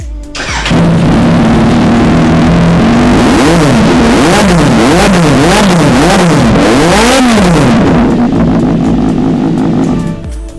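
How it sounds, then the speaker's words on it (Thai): A motorcycle engine idles close by, then revs up and down repeatedly in quick pulses before settling back to idle; loud, no talking. "เดี๋ยวให้ฟังเสียงเครื่องนะคะ"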